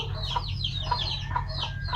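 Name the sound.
chicken clucking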